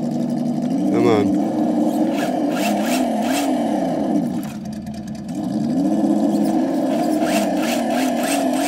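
Traxxas TRX4 High Trail RC crawler crawling over a rock pile, its electric motor whining and rising and falling in pitch as it creeps and strains, with a short dip near the middle, close and loud.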